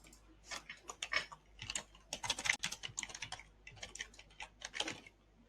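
Close computer keyboard typing in quick irregular bursts of key clicks with short pauses, no speech.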